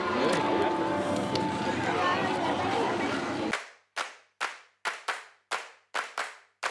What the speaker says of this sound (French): il faut aller applaudir papa